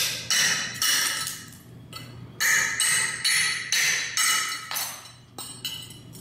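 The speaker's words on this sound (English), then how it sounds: "my 4-pound hammer to break this up" Repeated heavy blows from a 4-pound hammer crack and shatter hard floor tile, about a dozen sharp impacts in an uneven rhythm, close and loud.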